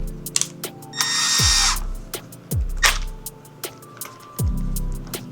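A power drill fitted with a 3/8 bit whirs in a few short bursts, each spin-up winding down quickly, with clicks and handling noises in between.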